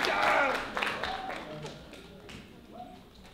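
Audience applause at a children's music recital, a burst of clapping that starts loud and fades into scattered claps, with voices talking faintly underneath.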